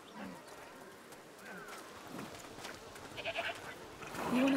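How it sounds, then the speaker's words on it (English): Goats in A Plague Tale Requiem bleat a few times at middling distance over an outdoor ambience with faint bird calls, growing busier toward the end. "Goats."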